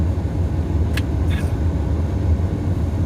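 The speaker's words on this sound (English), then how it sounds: "I left the car running, doors wide open." A car left running with its doors wide open idles in a steady low drone, close and continuous, with a brief higher-pitched sound near the middle.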